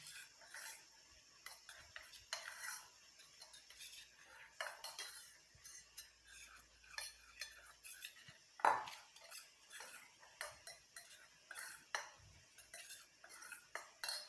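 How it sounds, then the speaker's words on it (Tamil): A spoon mixes amla powder and black cumin into coconut oil for a homemade hair dye, giving a run of light metallic clinks and scrapes against the bowl, near and fairly quiet, with no voices. "இது ரெண்டாக நல்லா மிக்ஸ் பண்ணி விட்டுருங்க"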